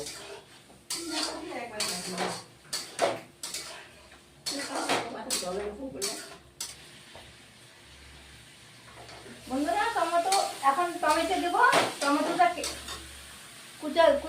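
Spice masala for a ridge gourd and potato dish being stirred and sautéed in a pan: clattering strokes of a metal spoon against the pan over a low sizzle, with someone talking through much of it.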